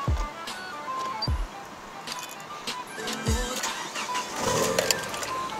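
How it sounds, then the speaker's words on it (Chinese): The Mitsubishi starter motor on a Proton Satria GTi C99 1.8 whirs in several short cranking bursts from inside the car, each brief whine fading quickly against a low background hum. "那个声音 ，starter Mitsubishi 的声音"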